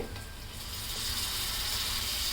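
Red chili powder, cumin powder and homemade black masala sauté in hot oil, a steady bright sizzle that grows slightly louder and denser, with faint stirring, no voices.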